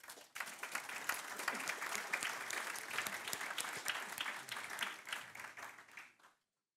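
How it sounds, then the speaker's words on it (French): Steady applause from a crowd, dense clapping sustained for about six seconds before stopping abruptly. "On peut l'applaudir."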